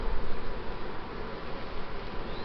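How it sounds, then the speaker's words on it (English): Honey bees drone steadily on a single hive frame while comb is being drawn, a dense continuous buzz heard close up with no voices. "So we got one frame of bees up top."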